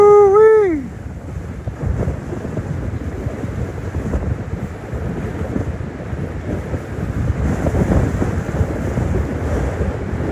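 Strong wind buffets the microphone over rough waves surging on a lake in extreme conditions, a loud continuous roar with gusts rising and falling, after a brief whistle-like tone at the start.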